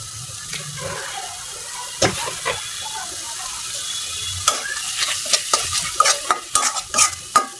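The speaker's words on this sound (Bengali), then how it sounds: "মশলাটা যাতে ভালো মতনে কষে।" A spice masala is stirred and fried in a pan for a wild bird curry, giving scraping spoon strokes and a low sizzle that grow busier and louder toward the end, with no speech over it.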